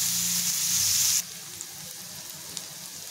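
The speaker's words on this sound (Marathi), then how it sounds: "त्याच्यामध्ये टोमॅटो टाकून घेते, ते सुद्धा आपल्याला व्यवस्थित सॉफ्ट होईपर्यंत परतून घ्यायचं" Tomatoes and onions sautéing in a pan for paneer bhurji, a loud bright sizzle for the first second that abruptly drops to a quiet simmer with a couple of faint clicks of a spoon.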